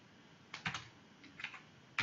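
Keystrokes on a computer keyboard while writing an Excel macro, a few quiet, close clicks in short bursts with small gaps between them.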